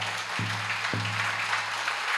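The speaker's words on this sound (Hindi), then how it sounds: "ताली बजाओ तो अच्छे से बजाओ।" Sustained applause from an audience at a Hindi spiritual discourse, a steady dense wash of clapping with no break, two low thumps near the start.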